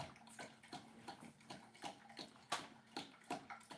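A dog lapping water indoors, a steady rhythmic series of wet laps and splashes, close and moderately quiet, with no talking.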